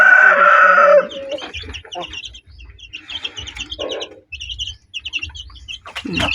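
A burst of loud clucking from chickens opens, then quieter chick peeps and soft clucks continue alongside scratching and pecking at feed of corn and mixed grain, close by, with no talking.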